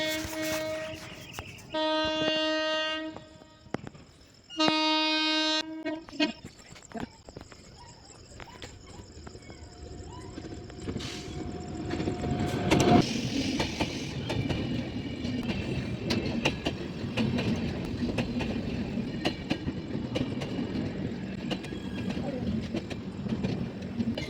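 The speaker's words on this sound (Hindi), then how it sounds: "हम लोग ट्रेन का वेट कर रहे थे और ट्रेन आ गई" A train pulling into a station in India, its horn sounding in long repeated blasts before a steady rumble and clatter builds as it arrives, with people talking nearby.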